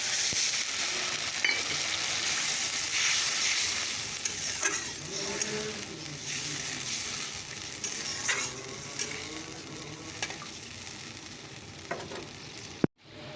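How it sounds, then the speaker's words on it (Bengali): Fish curry broth goes into a hot pan and sizzles and fries steadily. Faint stirring scrapes and small clinks come through near the microphone, ending with a sharp knock. "চলো ঝোলটা দিয়ে দিচ্ছি"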